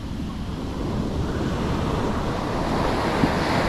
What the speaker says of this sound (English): these are the big waves they're talking about right here